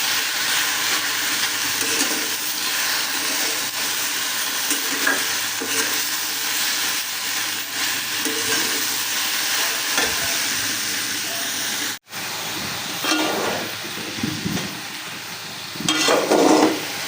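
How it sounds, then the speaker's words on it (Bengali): Okra (bhindi) with onion, chilli, turmeric and salt frying in a pan: a continuous close sizzle with scraping stir strokes, one brief cut, and louder bursts of crackle toward the end; no speech. "আমি ভেন্ডিটা ভাজা ভাজা করবো।"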